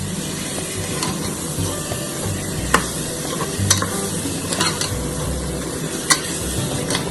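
Marinated chicken sautéing in masala for chicken biryani, a constant close sizzle with scattered spoon scrapes and taps against the pot, no voices.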